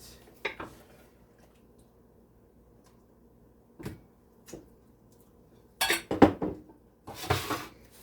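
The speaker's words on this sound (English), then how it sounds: "I'm gonna spoon it in the pot" A spoon clinks and scrapes against a metal pot in scattered bursts while tomato soup is transferred. Between the bursts there are quiet gaps, and a louder clatter of dishes comes near the end.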